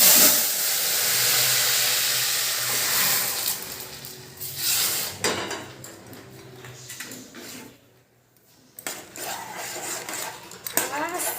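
Hot mustard seed tempering is poured into a sour crab dish, giving a loud, bright hissing sizzle that fades, followed by clinks of utensils and more bursts of sizzling.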